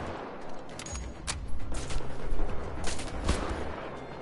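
Gunfire in the video game Wolfenstein: The Old Blood, a loud barrage of rapid shots and bursts with sharper cracks building toward the middle and end, no speech.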